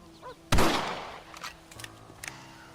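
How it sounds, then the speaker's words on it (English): A single rifle shot in the Red Dead Redemption video game, a sharp close report that decays quickly, followed by a few faint softer knocks and no talking. "Your back's tense and it's making the rifle jump."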